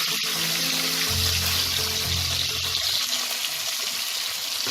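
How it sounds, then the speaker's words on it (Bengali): Hilsa fish pieces fry in hot oil, giving a loud, steady hiss and crackle that fills the clip close up, with a low hum under the first half. "দুপাশ থেকেই আমি মাছগুলোকে 1 মিনিট করে ভেজে নেব"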